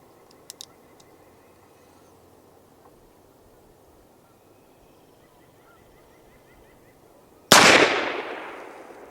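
A single sharp, loud shot from an antique Remington Police Model cartridge conversion revolver, near and alone, with a long decaying tail after a quiet stretch with a couple of faint clicks.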